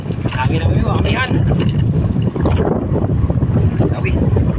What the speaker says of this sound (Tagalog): Hangin na amigo, amihan.